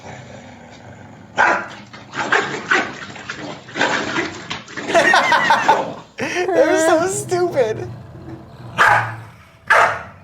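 Angry corgis bark and growl in sharp, loud bursts from a video playing in the room, their yaps mixing with people talking and chuckling over them.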